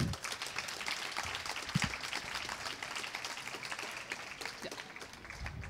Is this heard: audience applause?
yes